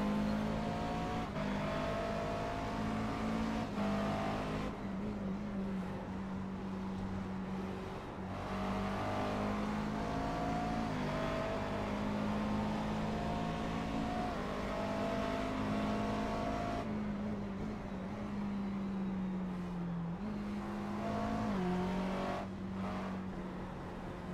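Race cars at the 24 Hours of Spa-Francorchamps, a fourth-place car being overtaken by cars running 12th and 13th, engines droning and revving loudly and continuously, with pitch shifts as cars accelerate and pass.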